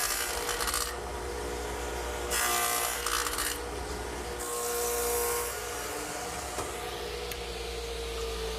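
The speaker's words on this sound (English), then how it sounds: "To make the half-lap, I've equipped my radial arm saw with my stacked dado head cutter and swung the arm around to 45 degrees." A radial arm saw fitted with a stacked dado head plows a half-lap into wood at a 45-degree arm setting, giving bursts of loud cutting noise over a steady motor drone.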